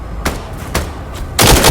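Video game gunfire in a military shooter: three sharp, loud shots spaced apart, the last one a longer, heavier burst, close and with no talk over them.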